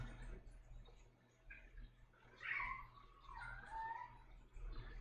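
A pet cat yowls and cries in agitation somewhere in the background, with several drawn-out wavering calls in the middle of the stretch over a quiet room hum, faint and distant.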